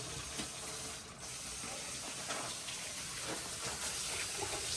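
Fish being washed under running tap water, a soft steady hiss of flowing water with faint splashes and handling clatter, fairly quiet and without speech.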